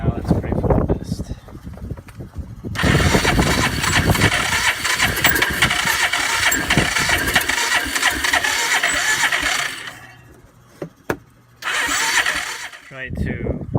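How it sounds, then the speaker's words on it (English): A Yamaha Rhino engine cranks and fires on carb cleaner, loud close churning and sputtering running for several seconds, dying, then a short crank and refire, with a person speaking. "I want to change the fuel pump, so I'm gonna go ahead and see if it starts."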